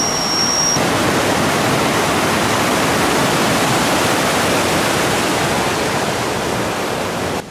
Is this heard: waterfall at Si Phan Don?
yes